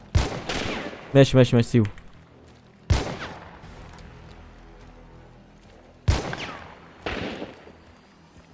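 Gunfire in the multiplayer shooter Hunt: Showdown: sharp single shots and a short rapid burst spaced across the stretch, mixed with excited voices of players talking.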